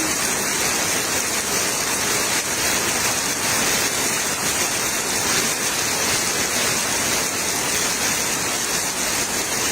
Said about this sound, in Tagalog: Nilalabanan yung boses ko ng ulan